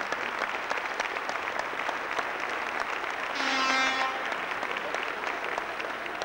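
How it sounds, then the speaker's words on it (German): A crowd at a German bodybuilding championship finals applauds the junior class, sustained dense clapping from a large hall, with a brief tonal hum rising midway through. "Applaus für die Juniorenklasse 1."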